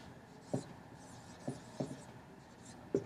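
Arabic letters written on a board, heard as a few faint, short scratchy strokes spaced irregularly over a quiet background.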